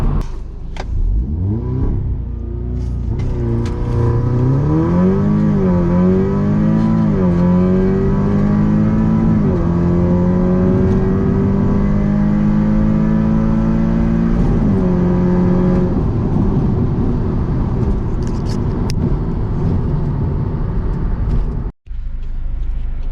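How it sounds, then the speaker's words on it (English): A MK2 Audi TTS with a carbon fiber intake accelerates hard, its engine induction note rising steadily through a long pull before easing off, ending with a short diverter valve release. "you can actually hear the induction noise now. And a little bit of the diverter valve as well"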